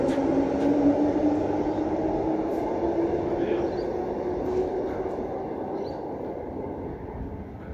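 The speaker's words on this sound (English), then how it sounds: "here's our train to Ellenbrook" A Perth B series electric train pulling into a station platform, a steady close rumble with a rising motor whine that slowly glides downward as it slows, fading slightly toward the end, no speech.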